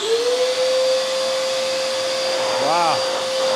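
A RIDGID 16-gallon, 5.0 peak HP wet/dry shop vacuum runs with a steady, loud motor whine and airy rush. Near the end the tone wavers briefly as the suction changes.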